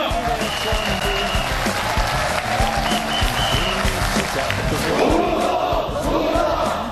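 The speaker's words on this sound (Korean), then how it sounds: "여러 동지 여러분들의 힘찬 박수와 함성으로 시작하겠습니다" Civil servants' union members at a founding rally clap and cheer loudly, a sustained roar of applause and shouting that holds steady throughout.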